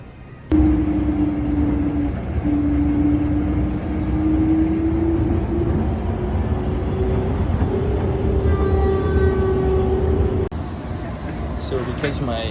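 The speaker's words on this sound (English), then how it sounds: "I'm now taking what's called a fast train, and it actually goes around all the way through the Dallas airport" Inside a fast train running through the Dallas airport, a steady loud rumble and hum carry a slowly rising whine, with brief electronic tones near the end and some talk underneath.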